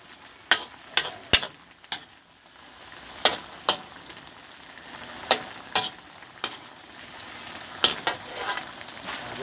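Bagoong shrimp paste fries in a pan under a low, constant sizzle while a spatula stirs and scrapes it, striking the pan in sharp, irregular knocks about every second.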